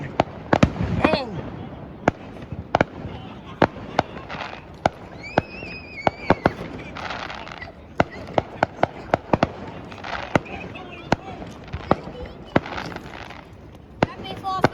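Fourth of July fireworks at 4th Street in Chesterton, Indiana, with sharp bangs and crackles firing in an irregular stream throughout, some close and loud, plus whistling rockets and distant booms, and people calling out in the background.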